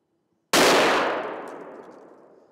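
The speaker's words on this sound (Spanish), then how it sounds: "José se prepara e intenta el disparo de nuevo." A single hunting rifle shot fired at a fallow deer lying in thick scrub, one sharp loud crack after silence, followed by a long fading echo rolling away across the hills.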